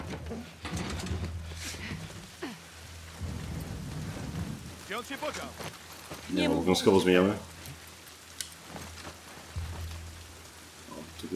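Steady rain hisses throughout in The Last of Us Part II while someone speaks briefly over it, with a burst of louder, rumbling game noise midway.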